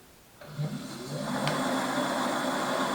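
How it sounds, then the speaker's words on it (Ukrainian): The hub motor in the wheel of a FORTE electric bike under repair spins up under throttle, starting with a soft click and then rising into a steady close whirring hum with a slight clunk near the start. "мотор колесо наше обертається"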